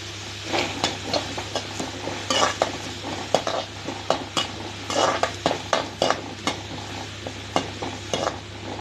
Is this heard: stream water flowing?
no